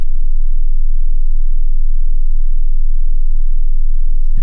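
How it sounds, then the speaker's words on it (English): A 19-hertz low-frequency test tone plays through speakers as a steady, very deep hum with almost nothing else above it, continuous and unchanging until a brief click at the end. "Now I'm gonna play 19 hertz, the horror movie frequency."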